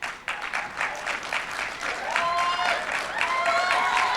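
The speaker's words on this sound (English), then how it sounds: "my notes here actually said pause for audience applause" Audience applause rises as a student scholars team is invited onto the stage at a conference closing plenary, a moderate crowd clapping with some whistle-like tones and murmuring mixed in throughout.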